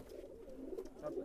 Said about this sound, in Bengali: এগুলো একটু হিংস্র প্রজাতির কবুতর